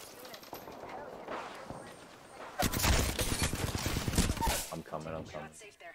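Mastiff shotgun blasts in a video game, a loud close burst of heavy shots in the middle, with voices talking around them.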